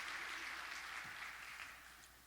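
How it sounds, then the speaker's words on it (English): A round of applause from a morning gathering of the CEP business group honouring donors, soft and distant clapping that holds steady and then slowly fades away. "Can we give a round of applause to all of these folks,"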